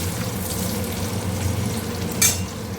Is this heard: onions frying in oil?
yes